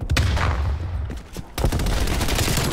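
Rapid automatic gunfire from a deployed sentry turret in Black Ops Cold War free-for-all, loud and continuous with a brief dip in the middle before the burst resumes, no talk over it.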